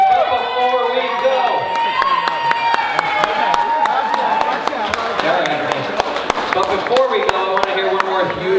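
Wedding reception guests applauding newlyweds Ian and Andrea, a steady wash of claps and crowd noise running under loud music.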